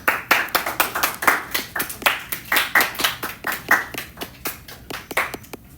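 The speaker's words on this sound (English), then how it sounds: "let's give him a round of applause" A small class claps for a student in a modest round of applause, with distinct, sparse hand claps in an uneven rhythm that thin out toward the end, close by and alone.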